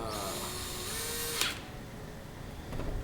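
A power driver whirs steadily while tightening screws on the rail system of a G&G Combat Machine M4 airsoft rifle, then cuts off and briefly restarts, heard close and alone.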